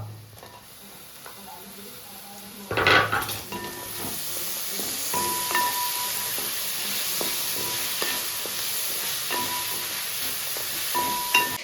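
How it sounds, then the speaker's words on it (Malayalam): Thinly sliced tomatoes drop into wilted onions frying in a pan with a brief loud clatter, then a continuous close sizzle follows with regular metallic scrapes of stirring. "സവാള വാടിയിട്ടാ നമുക്ക് തക്കാളി ഇട്ട് നോക്കാട്ടാ"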